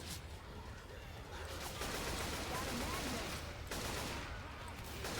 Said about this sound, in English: Gosh, I love the AK.